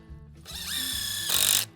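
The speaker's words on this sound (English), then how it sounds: "Drive 2 screws into the end of this, Matt." A power drill drives 3.5-inch treated screws into treated lumber while tacking together a shed foundation: a short, close whirring run with a rising whine, then a louder final burst before it stops.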